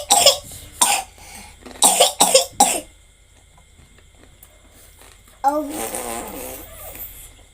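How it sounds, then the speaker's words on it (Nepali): A person coughs hard several times in a quick cluster after eating very spicy noodles, close and loud, followed by a pause and then a voice speaking. "यस्तो खोक्छ हो, सुन्नुभयो तपाईहरुले नि"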